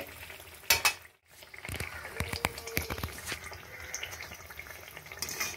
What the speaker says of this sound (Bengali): দেখুন এই মালপোটাও ভাজা হয়ে গেল আমার